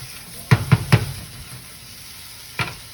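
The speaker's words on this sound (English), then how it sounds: "cook the onion and the leek separately because they are different sizes" Onion and leek cook in a pan for pommes boulangère, with a soft, steady sizzle beneath three quick utensil knocks against the pan and one more knock a moment later. No one speaks.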